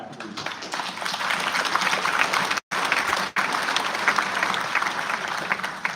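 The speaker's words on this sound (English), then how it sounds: "A round of applause for the staff, please." An audience at a governor's town hall meeting applauds the staff with a steady burst of clapping from a large crowd. The clapping stays fairly even and fills the room, with two very brief drops before continuing.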